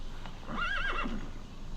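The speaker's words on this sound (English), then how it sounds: "Horses." A horse gives one clear, rising-and-falling whinny that lasts about a second, heard over light background noise in a scene with horses.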